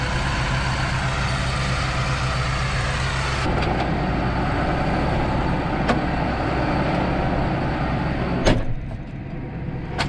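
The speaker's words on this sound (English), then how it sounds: "Yep, truck's tarped and leaving." A tarped grain truck pulls away from a muddy cornfield, its diesel engine droning loudly and steadily, shifting in tone partway through, with a few sharp clanks and a drop in level near the end.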